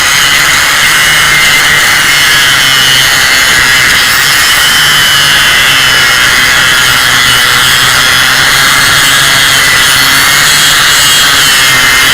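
A power tool grinds nonstop to cut a jammed disc off a farm sprayer. The grinding is loud and close, a harsh steady roar that fills the whole stretch with no talking.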